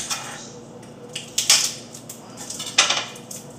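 Food being mashed down in a pan with a utensil, close scraping and clattering strokes, two sharper bursts standing out among softer pressing sounds; no talking.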